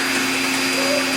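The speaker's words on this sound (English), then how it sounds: "It looks like a leaf blower and it sounds like one, but that's the hair dryer." A hair dryer runs during puppy grooming, producing a loud, steady, whirring roar with a high whine, much like a leaf blower, continuous and close.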